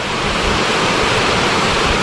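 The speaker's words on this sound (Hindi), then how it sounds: "जो पानी बह रहा है ना वो यहीं से बह रहा है, देखो" Mandwa waterfall in Bastar, Chhattisgarh, pours over rocks in a loud, continuous broadband roar heard up close with no breaks.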